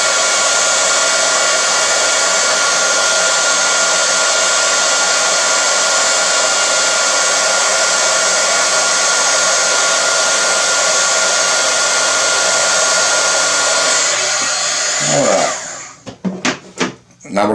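A heat tool blows hot air over a stamped Thanksgiving card to heat set the ink, roaring steadily and loudly close by before switching off near the end with a few brief knocks.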